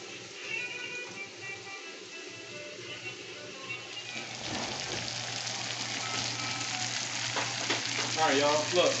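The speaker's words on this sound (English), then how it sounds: "I'm gonna saute the mushrooms for about 3 minutes, 3 to 4 minutes" Mushrooms sautéing in a pan for steak bites, a steady close sizzle that grows louder and denser partway through, with faint stirring and a low hum underneath.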